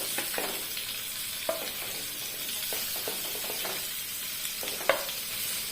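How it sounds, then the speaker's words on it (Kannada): Cut egg whites fry in hot oil with a steady broadband sizzle and hiss, punctuated by a few soft scraping stirs and clinks of a utensil; close, continuous, no voices. "ಎಣ್ಣೆ ಕಾದ ನಂತರ ಕಟ್ ಮಾಡಿ ಇಟ್ಕೊಂಡ ಈ ಮೊಟ್ಟೆಯ ವೈಟನ್ನು ಇಟ್ಟು ಹಾಕಿಕೊಳ್ಳುವ"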